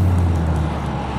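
Road traffic on Talmadge Hill, a steady low engine rumble and tire hum from cars on the street, moderately loud and continuous with no voices.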